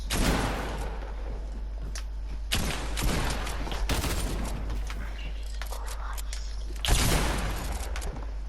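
Shotgun and other gunfire in a creative 1v1 shooting video game: dense, loud bursts of shots with sharp blasts near the three- and seven-second marks over a constant low rumble.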